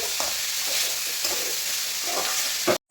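Onions frying with a pinch of salt in a pan, stirred with a spatula: a steady close sizzle with several soft scraping strokes, cutting off abruptly near the end.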